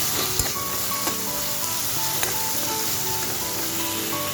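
Coriander and cumin frying in oil in a pan while being stirred, a steady close sizzle punctuated by a few sharp spoon taps and scrapes against the pan, with no voice over it.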